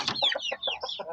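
Two-month-old native chickens cluck in quick, repeated bursts, a run of short, close, fairly loud calls with brief gaps, with no other sound.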